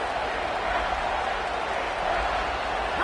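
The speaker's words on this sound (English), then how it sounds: "The Tide crowd rolling noise down on the Saban field on third down" A stadium crowd at an Alabama football game roars on third down, a dense, steady wall of cheering noise that holds at an even level for the whole stretch with no break.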